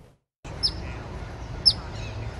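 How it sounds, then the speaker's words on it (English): Birds in the trees of a city park on a morning, two short bright chirps over a steady outdoor hiss, no speech. "The sweet melody of birds chirping in the trees Tuesday morning highlighted the beauty of Armitos Park"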